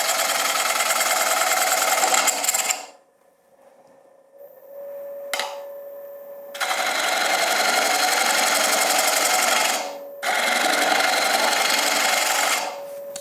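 A wood lathe turning a bowl runs loud and close with a steady tonal hum and rough cutting chatter, stopping for a few seconds mid-way and then starting up again in two long runs.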